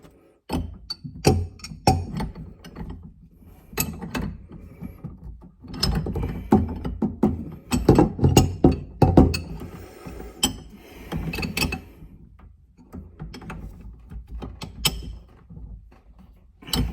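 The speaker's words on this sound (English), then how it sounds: "then we'll tighten that up with the spanners now" Spanners tightening the fittings of a monobloc kitchen mixer tap in a cramped under-sink space, with irregular close metallic clicks, ratcheting scrapes and knocks in uneven bursts, no talk.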